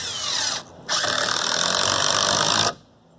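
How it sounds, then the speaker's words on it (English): A power driver sets a 3-inch screw into a hay bale target: a short whirring burst, a brief pause, then a longer, loud, steady drive that stops abruptly, all close by. "Go ahead and screw in your 3-inch screws."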